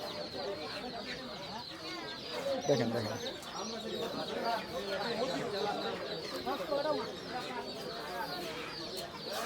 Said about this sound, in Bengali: এই যে চমৎকার কিছু দেশি মোরগ মুরগি